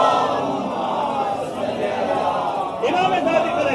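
A congregation at a Majlis gathering in Delhi's Laxmi Nagar chants salawat loudly in unison, a dense, continuous crowd roar that swells slightly near the end, with a lead voice among them.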